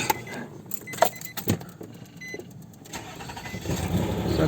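A 2006 Nissan Murano with a no-crank fault starts up, with engine noise building and settling into a rough, steady run after a few sharp clicks and clunks nearby.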